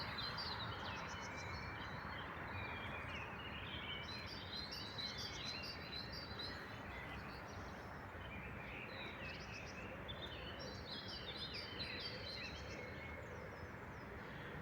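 Birds chirp and sing continuously against a soft outdoor background hiss in a village near Kraków, Poland, many small tweets overlapping at moderate distance.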